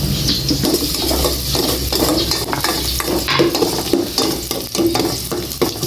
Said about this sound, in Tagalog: Igisa ko na po itong bawang.